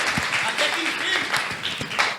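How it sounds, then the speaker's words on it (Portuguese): A church congregation claps and applauds in praise, a busy spread of hand claps mixed with voices talking over it. "Aplauda o Senhor por causa disso"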